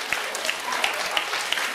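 Audience applause at a crosstalk comedy show in a small Beijing theatre, a brief burst of dense clapping from the crowd with a few sharper claps standing out.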